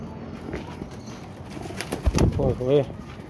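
A pigeon coos a few soft, throaty times close by, with faint rustling and a brief burst of wing movement around it.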